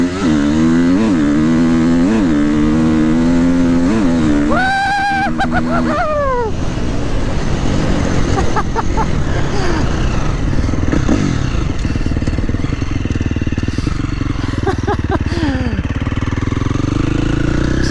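A KTM 350XCF dirt bike on a trail screams at full throttle, its engine over-revving in loud, close rising and falling sweeps with rattling and clattering between the pulls.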